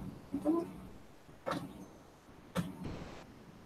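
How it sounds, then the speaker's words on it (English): Three separate mechanical whirs and clunks from a printer starting up unexpectedly, each a short motor burst followed by a fading hum, quiet and nearby with no talking. "Why is the printer suddenly coming to life?"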